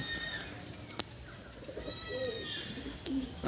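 Pigeons in a loft give faint, soft cooing and short calls in a quiet space, with a couple of sharp clicks and light rustling between them.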